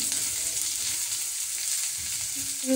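Steady, dense sizzle of food frying in a hot pan for egg chow mein, a continuous close hiss with a few faint clinks near the end and no talking.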